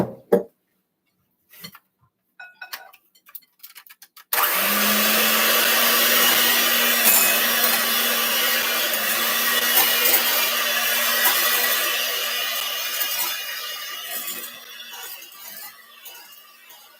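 An electric mixer creaming cream cheese and an egg for a chocolate mint Bundt cake starts abruptly after a few light clinks, then whirs loud and steady without pause, close by.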